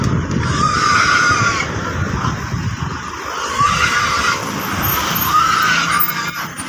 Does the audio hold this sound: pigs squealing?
yes